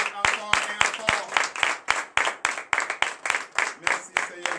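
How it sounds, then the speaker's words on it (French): An audience at a night deliverance and prophecy church service in Comè, Benin, claps in a steady, rhythmic beat, sharp close claps repeating about three times a second, with a voice faintly underneath. "je vous demande d'applaudir encore et encore et encore"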